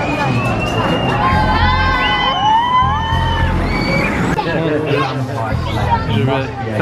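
A crowd screams and shrieks on an amusement park ride at Chessington World of Adventures. The screams are loud and overlapping and rise and fall, with shouting and excited voices close by.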